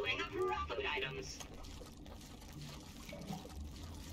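Faint water trickles and drips inside a cave in the video game Grounded, a soft, continuous liquid sound beneath other quiet game noise.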